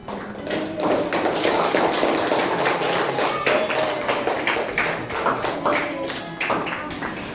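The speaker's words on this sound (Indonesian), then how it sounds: "Aplaus buat kelompok" A classroom of students applauding a group, a dense, steady patter of clapping lasting several seconds with faint voices underneath.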